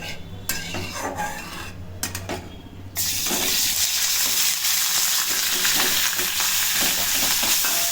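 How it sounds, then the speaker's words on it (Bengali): Fresh chhana cottage cheese dropped into hot ghee in a kadai for a homemade sweet, with a few clinks and stirring before the frying bursts into a loud, steady hiss that continues to the end. "ছানাটা দিয়ে দেওয়া হলো ঘিয়ের মধ্যে, একটু নাড়ানো হচ্ছে।"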